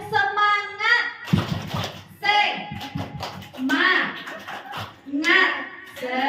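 Kindergarten children at TK Mekar Melati chant and clap in rhythmic patterns together, sharp hand claps punctuating their sung voices in a lively, close classroom group.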